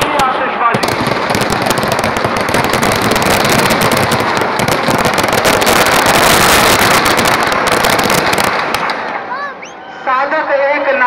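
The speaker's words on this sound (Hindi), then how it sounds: "आप देखेंगे मालवा की भव्य आतिशबाजी।" Loud, dense Dussehra fireworks display at Bittan Market, Bhopal, with rapid crackling bursts and booms overlapping continuously, then thinning out near the end as whistling shells trail off.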